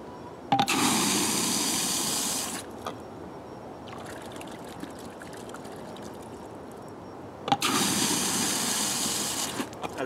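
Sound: urine being poured into a container

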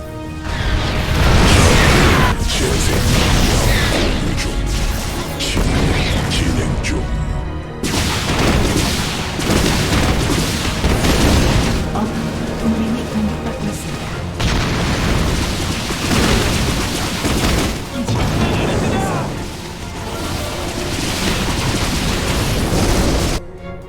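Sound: air strike explosions in StarCraft II video game

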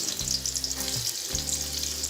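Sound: onion and green chillies frying with cumin seeds in oil

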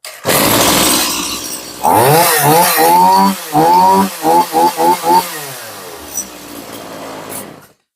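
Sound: Stihl MS180C chainsaw engine starting and running

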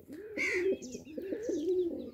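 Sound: pigeons cooing

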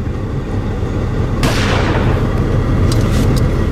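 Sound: rifle gunshot

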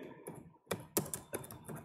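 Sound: typing on a computer keyboard

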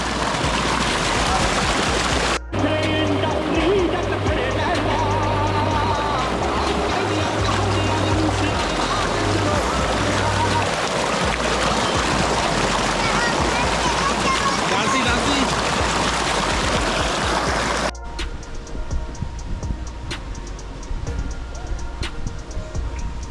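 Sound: water gushing from a tubewell motor pipe

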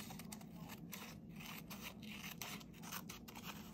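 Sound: scissors trimming a watercolored book page

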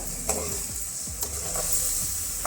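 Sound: stirring turmeric and tomatoes into sizzling tempering

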